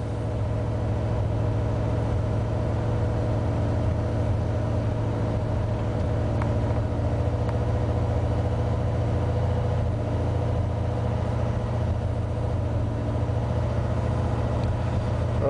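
A 1986 Ford F150 4x2 idles loud and close, its engine rumbling in a steady drone after a cold start, having sat for two weeks with a misfire.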